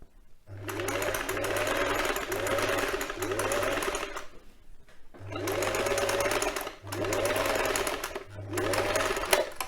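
Sewing machine stitching the seam of a quilt cover in bursts of rapid mechanical whirring, with short pauses between runs and a longer stop midway.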